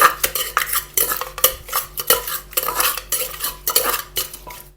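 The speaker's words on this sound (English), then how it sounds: "Now you're gonna mix that sugar together." Sugar is stirred into green papaya salad for Thai som tum, with a utensil scraping and clinking against the bowl in repeated irregular strokes, fairly close and with no talking.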